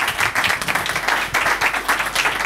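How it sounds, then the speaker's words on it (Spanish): Audience applause at the end of a Spanish-language talk on natural-material building with earth and straw, a steady patter of many hands clapping at moderate level for a couple of seconds, without speech. "Un aplauso."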